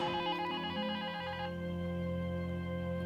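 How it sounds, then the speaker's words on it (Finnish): A phone in Minecraft rings steadily and loudly with a sustained electronic tone. The higher ringing layer cuts off partway through while a lower hum carries on. "Nyt pitää kyllä soittaa Laurille uudestaan"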